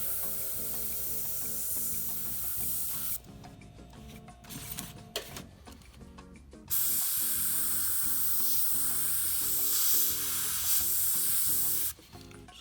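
Airbrush hissing paint onto a 28mm Rubicon Models A15 Crusader tank model: a steady close spray cuts off, then short stuttering bursts follow, and a long continuous hiss resumes before stopping again.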